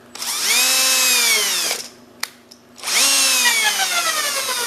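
A power drill spins an old engine cylinder hone that belonged to a grandfather, whining loudly and steadily with rising pitch. It winds down, two short clicks follow, then it revs up again and runs at speed to the end.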